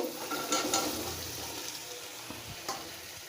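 Greens stems and potato pieces sizzle steadily while being sautéed in a pan with oil, a continuous close frying hiss with a few soft stirring scrapes and no voices.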